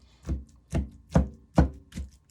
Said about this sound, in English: It all really depends on my avocados, but these are chopping beautifully.